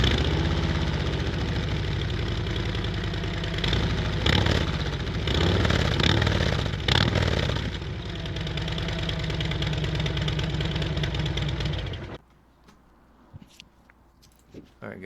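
Close, loud 2020 Harley-Davidson Road Glide motorcycle engine running with a lumpy idle, revving a few times, then cutting off to near silence with faint handling noises afterward.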